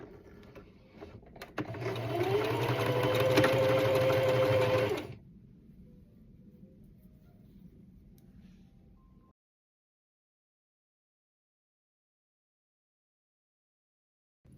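A sewing machine runs a steady, loud burst of stitching along the side seams of a swimsuit cover-up for about three seconds, then stops, leaving quieter handling noise and silence.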